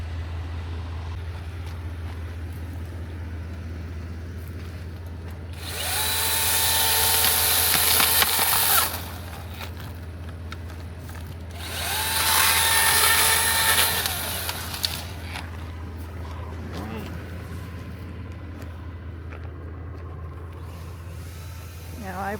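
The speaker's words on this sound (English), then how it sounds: "gonna pull out the chainsaw and cut it so we can get through" A chainsaw cuts through a branch lying across a road, two loud buzzing bursts of several seconds each rising over a steady idling engine hum, with people talking nearby.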